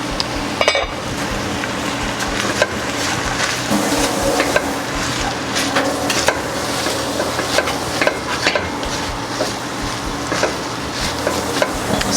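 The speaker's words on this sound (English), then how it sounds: "And let it cook until the onions are just soft" Onions cook in a soup pot over medium heat, stirred steadily with repeated scraping and clinks of a utensil against the pot over a soft sizzle, loud and close throughout.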